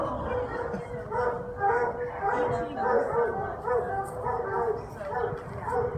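Dogs at an animal shelter, including beagles, yip and whimper in a steady chorus of short barks close by, with people talking over them throughout.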